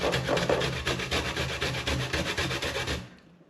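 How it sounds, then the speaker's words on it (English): A hard bissy (kola nut) is grated on a metal grater in quick, steady rasping strokes, about ten or more evenly spaced scrapes up close before the grating stops. "We get it on the grater"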